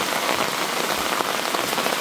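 Steady rain falling on a surface in a rural forest setting, a dense continuous patter that stays loud and even throughout, with no voices.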